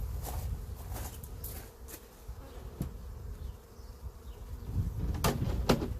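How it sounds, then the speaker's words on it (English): Honey bees buzz around an opened hive during a honey harvest, a close, continuous insect drone broken by a few sharp knocks. "It's gonna be hard to get all these bees out of here."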